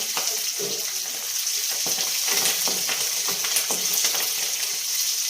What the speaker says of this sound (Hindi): और मीठा नीम ला डाल दें और मेथी भी डाल देते हैं। मेथी फोरन दे दें